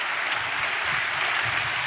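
Congregation applauding in a church, a steady dense wash of clapping that carries evenly and fairly loud from start to finish without any break.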